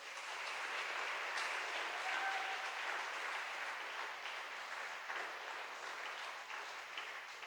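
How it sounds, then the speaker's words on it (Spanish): A church congregation applauds in praise during a sermon, the clapping steady and sustained at moderate loudness for several seconds, with a faint tone sounding briefly partway through. "Dale un aplauso al Señor por él"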